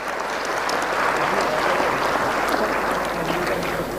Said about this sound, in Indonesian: Berikan aplaus untuk semuanya dulu.